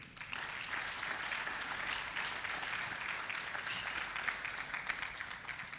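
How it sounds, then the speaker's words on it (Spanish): Congregation applause at a Spanish-language church service, a steady, dense wash of clapping sustained throughout at moderate level with no speech over it. "Dale un aplauso al Rey."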